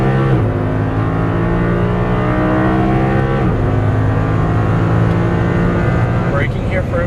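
Audi R8 accelerating hard out of a corner on a track, its engine loud and close throughout with rising harmonic pitch sweeps and gear changes, while a person talks over it.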